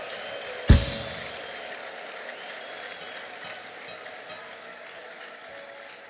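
A church congregation breaks into a sudden burst of applause. It is loud at first and quickly fades into a softer, lingering crowd murmur over a few seconds.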